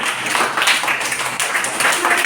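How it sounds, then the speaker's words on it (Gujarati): Children in a classroom clap their hands together in a quick, close burst of claps, mixed with voices speaking. "તાળી શરૂ હોવી જોઈએ બેટા"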